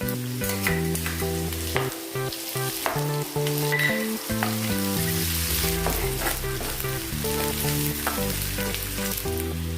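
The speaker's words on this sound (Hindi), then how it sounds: "अभी हम अदरक लहसुन का पेस्ट डालेंगे" Steady frying sizzle of ginger-garlic paste in hot oil with stirring, continuous and close, though music plays loudly over it throughout.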